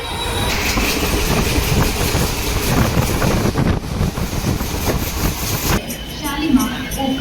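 A passenger train pulling out of Shalimar station, heard from on board as a steady, loud rumble of wheels on rails with rhythmic clacking, ending in a brief quieter stretch with faint background voices.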